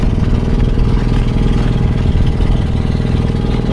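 A fishing boat's engine runs close by with a loud, steady chugging drone and a regular low thrum throughout, with no voices over it.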